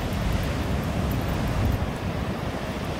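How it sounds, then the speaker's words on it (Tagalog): Big ocean surf at San Juan, La Union, a surfing spot in the Philippines, roars as a steady, loud wash of breaking waves mixed with gusting wind buffeting the microphone, with no clear pauses. "Taas ng alon. Dito sa may La Union."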